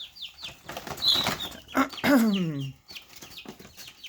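Pet chicken clucking and chattering at close range, a run of short, rising calls followed by a longer drawn-out squawk, then quieter sounds at the end.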